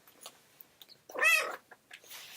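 A female house cat gives one clear, loud meow mid-clip, close by, with faint rustling and small knocks around it and no talk.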